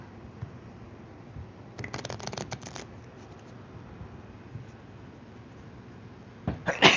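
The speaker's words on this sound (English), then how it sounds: "They'll split it into quarters, shuffle those together, put them back together, shuffle twice" Quiet riffling bursts of playing cards being shuffled, one cluster early and another sharper burst at the end, over a faint background hum.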